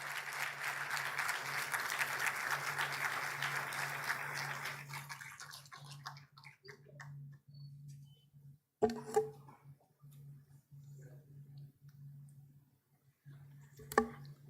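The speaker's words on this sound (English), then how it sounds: "Please give them a big round of applause." Applause from an audience at an award ceremony during a research conference at a university in Pune, a dense steady patter for about five seconds that then fades to scattered claps and room noise under a steady hum.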